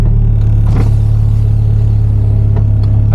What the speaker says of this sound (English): we're gonna go ahead and give it a drive so that we can hear what the intake actually sounds like